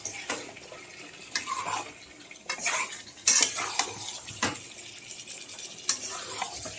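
A spoon scrapes and clinks against a pan as a curry is stirred and sautéed, with a steady sizzle underneath and several sharp metallic knocks spread across the stretch; no one speaks.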